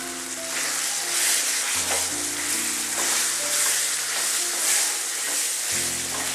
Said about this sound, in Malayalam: ഉപ്പിട്ടിട്ട് ഇതൊന്ന് ഇളക്കി കൊടുക്കുക